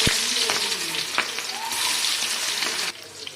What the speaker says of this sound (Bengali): এইখানে কাবাব ছেড়ে দিচ্ছি